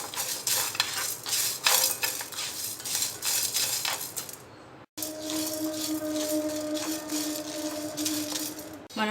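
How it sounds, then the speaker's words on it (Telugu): Cumin, coriander seeds and dry coconut fry in a pan for pepper rasam. A utensil scrapes and stirs close up over a faint sizzle, with a brief pause midway. "జీలకర్ర, ధనియాలు, ఎండు కొబ్బరి వేసి ఫ్రై చేసుకోవాలి."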